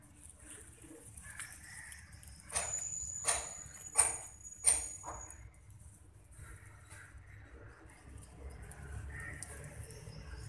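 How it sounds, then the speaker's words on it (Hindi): Pigeons give a few soft, short cooing calls in a cluster partway through, over a quiet, hissy background. "कबूतरों को जब अपने केजेस से निकाला जाता है तो थोड़े घबरा भी जाते हैं"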